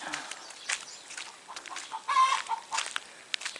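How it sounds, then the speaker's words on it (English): Chickens on a homestead farm cluck and squawk in a scattered series of calls, moderately near, with one louder squawk standing out midway. "We have some squawky chickens over here."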